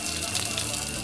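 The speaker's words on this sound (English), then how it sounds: "I just turn this red switch and I get a nice semi-warm solar powered shower." Water runs steadily from a solar-heated outdoor shower with a coconut shell for a head, a close, continuous splashing hiss with no pauses.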